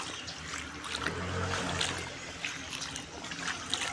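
Floodwater from heavy rain fills the space under a house in a steady, faint trickle and splash, with soft dripping accents and light background noise.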